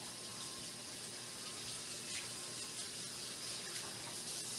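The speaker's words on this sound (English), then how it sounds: "So let's wash them." Steady tap water runs into a kitchen sink as potatoes are rinsed for homemade mashed potatoes, a continuous soft gush with no talking.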